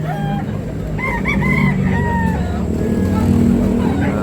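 Chickens cluck and a rooster crows repeatedly amid a busy outdoor crowd murmur at a poultry market in Tabunok, Talisay, Cebu, the birds fairly close and loud.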